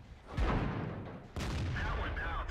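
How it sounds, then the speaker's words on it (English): In World of Tanks, tank shells bounce off the front armour of a 4202 tank. Two loud, sharp metallic impacts land about a second apart, each with a booming tail. "listen to the new shell, the new noises of shells bouncing off the front of the 4202 there"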